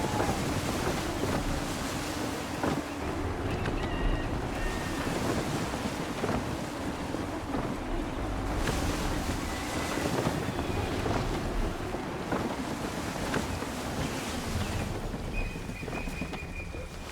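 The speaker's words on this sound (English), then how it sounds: "Gusty winds can be difficult to manage." Steady gusty wind and rushing waves around a sailing ship in Assassin's Creed III, a dense continuous roar of sea and air with faint creaks, no voices.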